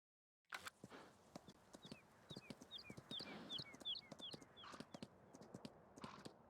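Horse hooves trot in Farming Simulator 19, a steady rapid clip-clop of many evenly spaced hoof strikes, close and continuous, with faint chirping and ambient outdoor game sounds behind.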